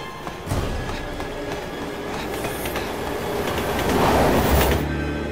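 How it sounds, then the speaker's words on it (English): A train in the underground level of Resident Evil 6 roars past loudly and close, with rumbling, rattling wheels and a rising screech that swells toward the end. "Look out! Train!"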